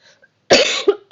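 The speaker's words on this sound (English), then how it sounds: "I have a little cough" A single sharp, loud cough bursts out after a brief quiet moment, followed by a smaller cough.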